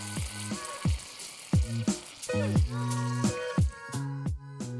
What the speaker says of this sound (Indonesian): goreng donatnya.